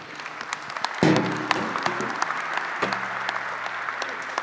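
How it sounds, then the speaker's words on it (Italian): Audience applause for Aurora Cantini's special Rosa d'Argento literary prize at the Museo civico Santa Caterina in Treviso, a sustained wash of clapping that swells around the one-second mark and carries on steadily to the end. "Applauso meritatissimo per questo premio speciale Rosa d'Argento ad Aurora Cantini"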